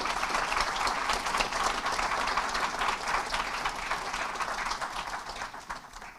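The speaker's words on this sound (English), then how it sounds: "let's give our advisors and volunteers a round of applause for making this possible today" A room full of people at a YMCA Youth & Government election convention opening ceremony gives a sustained round of applause for the advisors and volunteers, dense steady clapping that holds for several seconds before easing slightly.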